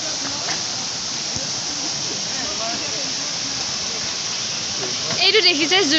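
A hill stream in the Amsoi hills flows with a continuous, fairly loud rushing wash of water that stays even throughout, with voices joining faintly near the end.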